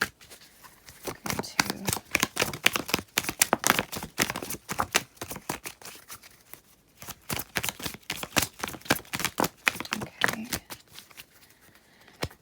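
A deck of tarot cards is shuffled by hand, a rapid run of crisp riffling slaps in bursts with brief pauses, close up, and a voice speaks once briefly.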